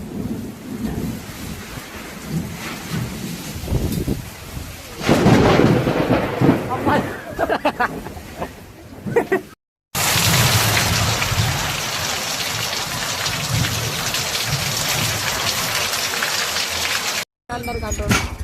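Heavy rain pounds down during a severe storm with deep rumbling thunder, loud and continuous. Voices are faintly heard at times beneath the downpour, and the sound cuts out briefly twice.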